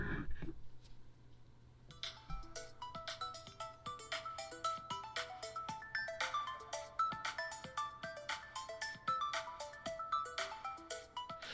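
Melodic electronic tune playing from an iPhone 7 Plus speaker inside a Catalyst case, steady plucked notes in a repeating rhythm, fairly quiet and close with no one talking.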